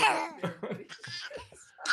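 A few short, harsh coughs in quick succession, close and fairly loud, with a breathy throaty sound between them.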